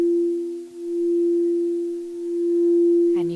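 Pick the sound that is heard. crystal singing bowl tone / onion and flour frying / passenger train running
crystal singing bowl tone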